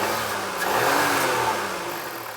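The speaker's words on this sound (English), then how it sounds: "Rev it all the way." Close, loud revving from an Audi Q5 SUV engine in a repair shop, the pitch swelling smoothly through one sustained rev before easing back down.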